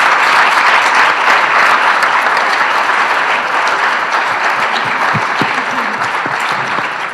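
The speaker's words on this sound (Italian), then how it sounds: "un applauso per introdurre" A large audience at an Italian lecture applauds loudly and steadily, a dense wash of clapping that holds for several seconds and thins slightly toward the end.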